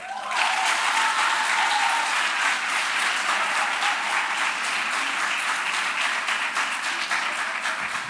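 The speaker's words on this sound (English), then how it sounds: "I love how you're no longer stingy with those applause" Audience at a law society symposium breaking into sustained, even applause, a dense wall of many hands clapping that stays loud for the whole stretch.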